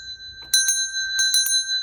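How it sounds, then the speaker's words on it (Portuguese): A bright notification bell sound effect rings in quick metallic dings, several clustered strikes like a bicycle bell, each with a short shimmering ring over near silence. "Aciona o sininho das notificações"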